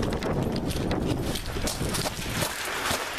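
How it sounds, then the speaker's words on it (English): Dense, steady patter of heavy rain, loud and close, a continuous broadband wash with no voices. "It's raining."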